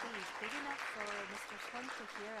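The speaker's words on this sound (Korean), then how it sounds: "여러분 영국까지 들리도록 큰 박수 한번 부탁드려도 될까요?" A conference audience at a national brand awards ceremony claps loudly and continuously while a voice speaks over the sustained applause.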